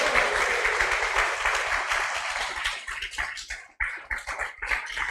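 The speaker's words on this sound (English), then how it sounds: "a final applause." Audience applause closing a Gaura Purnima interview session, a dense steady wash of clapping from a crowd that thins and breaks into scattered claps toward the end.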